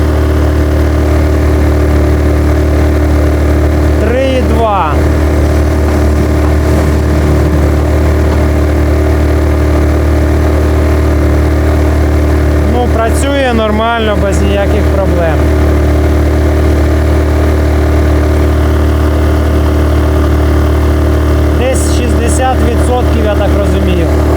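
A KS 6000iES 5 kW inverter generator runs steadily under a 3 kW load, giving a constant loud low engine drone with a stable hum throughout. Brief bursts of talk come in over it.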